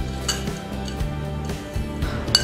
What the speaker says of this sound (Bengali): এখন সবগুলো শুকনো উপাদান আগে আমি একসাথে একটি চামচ দিয়ে এইভাবে নেড়ে চেড়ে মিশিয়ে দিব।